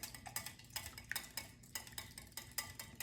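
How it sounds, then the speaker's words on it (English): Ingredients being whisked in a bowl, a faint, quick rhythm of light clinks and taps repeating steadily, close by and with no voices. "I'm just gonna whisk all this together"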